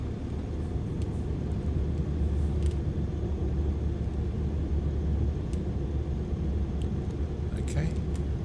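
Steady low rumbling drone of a Cessna 152 engine rolling out to runway 31 at Lydd, heard from inside the cabin with faint clicks over the engine.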